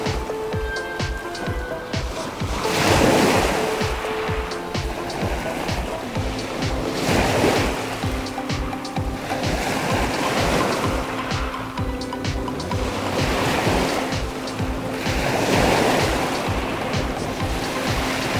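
Sea waves roll onto a beach in calm, windless weather, a steady close wash of surf that swells and breaks in slow surges every few seconds.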